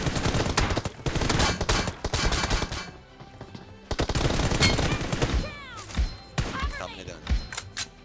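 Gunfire in the mobile battle game PUBG Mobile comes as rapid bursts of loud shots with short pauses, then scattered single cracks, while players chat over it.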